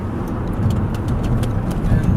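A car driving through a corner on Bouquet Canyon Road, a steady engine and road rumble held close and fairly loud for the whole stretch, with no talk over it.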